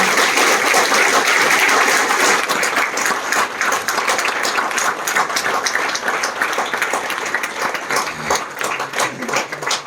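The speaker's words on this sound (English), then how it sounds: "Ladies and gentlemen, please give a huge round of applause." A large audience gives a round of applause at a book launch in Mumbai, loud sustained clapping from many people that thins a little toward the close.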